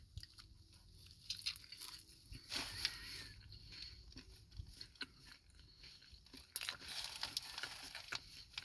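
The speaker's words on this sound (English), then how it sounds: "It's got good crunch." Someone bites into and chews a crunchy chicken sandwich topped with chipotle mayo, producing close, crisp crunching bursts in an irregular rhythm over several seconds, with no talk.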